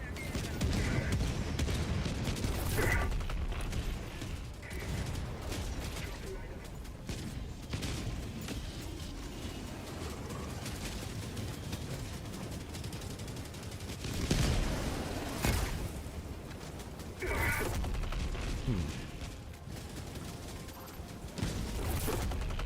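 Orbital strike fire in Helldivers 2, a sustained barrage of booming, crackling explosions with several louder blasts rising out of dense game-battle noise, alongside voiced stratagem callouts.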